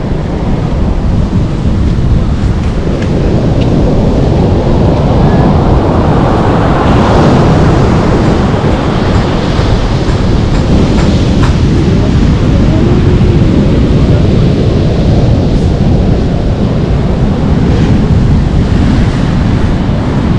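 Storm waves and heavy surf pound the beach at Dolphin beach in Lazarevskoye, Sochi, a continuous loud roar of breaking water with gusting wind buffeting the microphone throughout.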